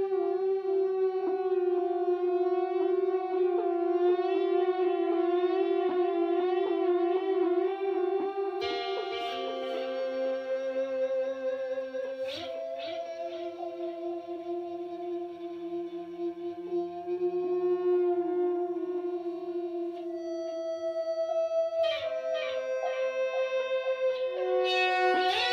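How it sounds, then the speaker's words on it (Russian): A homemade guitar sustainer built from a vibration speaker, driven through maxed-out compression and distortion, holds long, steady overdriven notes that ring on without picking, shifting pitch every few seconds, loud and alone. "Компрессия на максимуме. Добавили дисторшна. И пошел звук."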